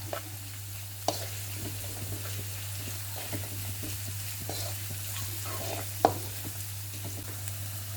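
Chicken sizzles and fries steadily in a pan as red pepper flakes, black pepper, curry, salt and thyme are stirred in, with a few sharp utensil clicks against the metal breaking through the constant close hiss.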